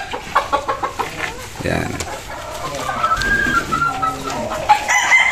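Stag roosters on a gamefowl farm cluck and crow nearby, with a drawn-out crow rising in the middle, amid other bird calls and someone talking briefly.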